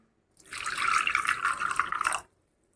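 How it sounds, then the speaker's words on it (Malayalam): Water poured from a tap or jug onto almonds soaking in a bowl while making paluda: a close, steady splashing pour of about two seconds that starts and stops cleanly, with no talking. "ഇനി നമുക്ക് വെള്ളം ഒഴിച്ച് വെക്കാം"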